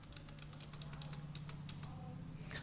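Computer keyboard keys, including the Enter key, pressed in Tally Prime accounting software, giving a run of light, irregular clicks and taps over a steady low hum, fairly close.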